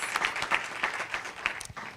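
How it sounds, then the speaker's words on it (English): Applause at a county council meeting, thin and fairly quiet, with scattered individual claps from a small audience that rise and fall unevenly over a couple of seconds. "that deserves an applause"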